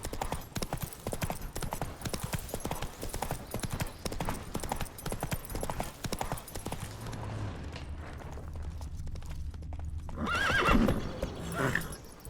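Roach, a horse in The Witcher 3, gallops with a steady, fast clip-clop of hooves, then slows near the end and lets out a loud whinny over low rumbling.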